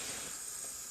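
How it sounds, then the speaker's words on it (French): A hamburger patty frying in a pan with onions makes a soft, even hiss, a quiet continuous sizzle heard close up with no voices over it. "je laisse cuire mon petit steak haché, toujours mes petits oignons"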